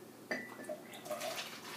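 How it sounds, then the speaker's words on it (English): Homemade kefir is poured into a plastic soda bottle for a second fermentation, making a soft, faint trickle and gurgle of liquid that runs steadily for a couple of seconds. "Just pour your little concoction in here, and this is what's considered a second fermentation."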